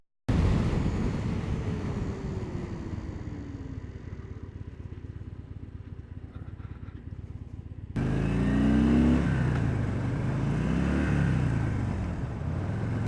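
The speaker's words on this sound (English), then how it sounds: "I can't believe I just missed an upshift." A Harley-Davidson FXDB motorcycle engine roars steadily at high revs when an upshift is missed, then surges louder with a sharper rising rev partway through, no voices over it.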